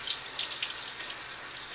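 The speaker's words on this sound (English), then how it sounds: "shock them with some cold water" Cold tap water poured over freshly drained green beans, a steady close hissing splash like a running faucet, no talking.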